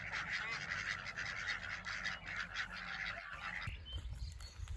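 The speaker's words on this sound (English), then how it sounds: "The ducks have surrounded her." Ducks crowd around a person eating on a lawn in Tasmania, giving out repeated nasal honks and quacks over a constant outdoor background, with a brief rustling disturbance near the end.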